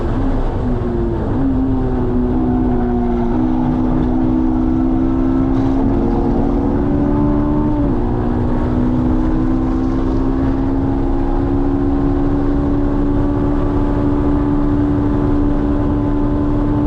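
A Honda S2000's F20C engine held near 9,000 RPM through the esses at Watkins Glen, a loud, sustained high-pitched drone with slight pitch dips at gear or throttle changes, heard from inside the car without talk.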